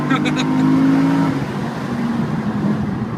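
A 1996 Honda Civic EK race car lapping on a road-race track, its engine droning steadily with a rising then easing pitch, while people talk over it inside.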